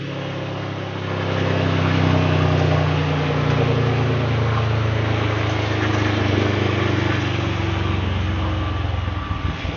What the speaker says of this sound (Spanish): voy a activar este ventilador